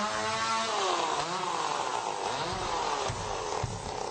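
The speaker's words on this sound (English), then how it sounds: "Why do you need a chainsaw guitar?" A chainsaw guitar drones with a steady, buzzing, engine-like roar, its pitch sliding and bending continuously through a sustained loud passage, with no speech over it.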